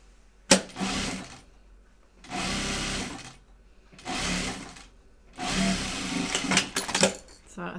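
A sewing machine stitches a bag prototype in three or four separate runs of rapid motor-driven stitching, each lasting about a second, with brief quiet pauses and faint handling noise between them.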